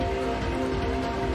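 A steady hail weather effect from the Pokemon Empyrean video game plays as a dense, continuous rain-like patter with a sustained tonal hum beneath it, loud and unbroken throughout.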